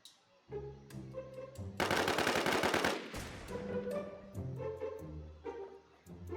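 Gunfire in the online survival shooter Infestation The NewZ, a tight burst of rapid automatic shots lasting about a second, loud and close, set against in-game music or background tones.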